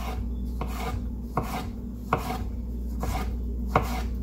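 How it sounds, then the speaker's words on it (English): Knife cutting a tomato into thin slices on a board, a steady series of soft rasping strokes punctuated by about five sharper thuds against the board, close and fairly quiet over a low steady background hum. "we're just gonna take a tomato, split this down the middle. We're gonna do thin slices."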